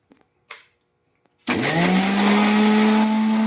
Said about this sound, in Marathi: आता आपण हे मिक्सर मधनं बारीक करून घेऊ